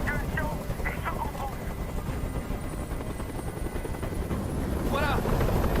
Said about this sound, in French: Je peux plus supporter ce bruit. Fais dégager cet hélicoptère,